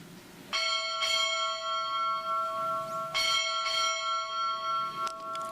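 A ship's bell rings out clearly four times at a naval change of command ceremony, struck in two quick pairs, each strike ringing on and fading slowly.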